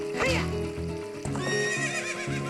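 A loud horse whinny from Zelda: Ocarina of Time 3D rises and falls over in-game music, followed by a second short neigh and clip-clopping hooves.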